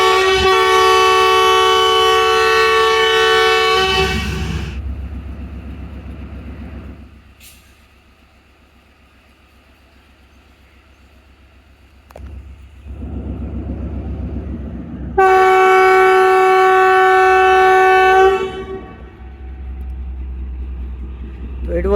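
The Shalimar Express train runs at speed with its horn sounding loud and sustained, a long blast at the start and another later, over a low rumbling roll of the wheels.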